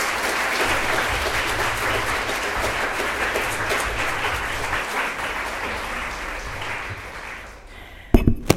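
An audience at a lecture hall claps in sustained, dense applause to welcome a speaker. The clapping is loud and even for about eight seconds, then fades out, followed by a few close knocks.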